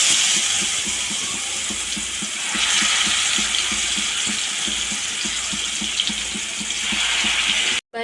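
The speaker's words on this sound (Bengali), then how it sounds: "তো গাইস আমি এখন মাংসগুলোকে ভেজে নেব" Meat fries in a pan with a broad, steady sizzle and regular stirring scrapes ticking through it, close and fairly loud, then a brief cutout at the end.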